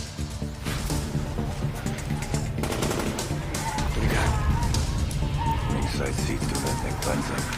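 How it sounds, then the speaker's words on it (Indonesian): Rapid gunfire crackles in dense bursts over a loud rumbling background as rebel soldiers fire on villagers in a film, with a voice speaking over the shooting. "terdengar bunyi tembakan yang saling sahut-sahutan yang ditembakkan oleh para tentara pemberontak"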